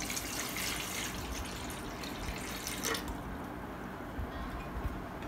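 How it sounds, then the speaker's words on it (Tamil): Drinking water poured into an idli cooker in a home kitchen, a steady rushing stream of liquid filling the pot, moderately faint and continuous with a slight change in tone midway. "இதில் ஊற்றுற தண்ணி வந்து நல்ல தண்ணி, குடிக்கிற தண்ணியை ஊற்றுங்க."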